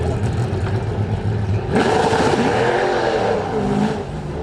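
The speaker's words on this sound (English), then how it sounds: "Obviously the race cars, they have to blip it a little bit" A race car blips its throttle at the Goodwood turnaround, a loud engine sound with a sharp rise in revs partway through, followed by uneven revving and wavering engine pitch.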